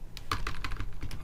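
Fingers tap out a quick, uneven run of clicks on a computer keyboard, close and moderately loud, with no voice.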